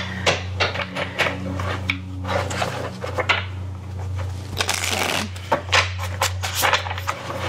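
Tarot cards being shuffled by hand, close and crisp riffles and slides in several bursts, with soft taps and rustles between them over a low steady hum, no talk.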